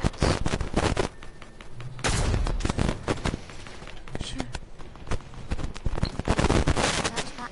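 Rapid volleys of sniper rifle fire in a PS4 shooter game, dense repeated cracks and booms packed closely over several seconds, loud and continuous with game sounds mixed in.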